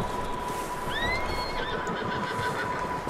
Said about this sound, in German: Da ist ein Pferd drin.